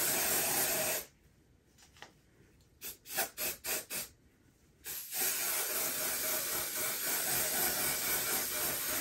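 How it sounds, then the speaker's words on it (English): Steady loud hiss of an aerosol spray on wig lace, stopping for a few seconds with several short puffs, then a long continuous spray again. "And we're going to spray this lace."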